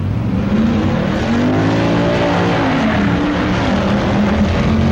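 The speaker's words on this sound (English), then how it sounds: "Bud Fauble races Roger Lindemud and Color Me Gone." 1965 AHRA Winternationals drag racing, with cars launching down the strip and a loud, steady roar of racing engines that rises in pitch as they accelerate, no talking heard.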